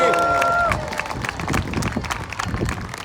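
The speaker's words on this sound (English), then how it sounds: "Let's give him a nice big cheer." An airshow crowd at the seafront cheers and claps after a fading tone at the start, a loose, busy patter of clapping and shouts at moderate distance, with some voices mixed in.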